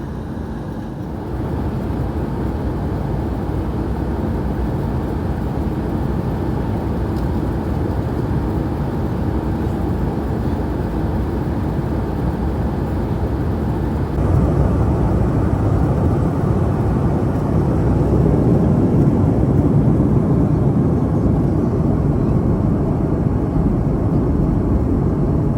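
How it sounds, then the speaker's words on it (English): Inside a Delta airliner cabin on final descent from Atlanta into Philadelphia, a loud, steady engine and airflow roar fills the air continuously and grows slightly stronger partway through, with no speech. "we were already on the final descent into Philadelphia"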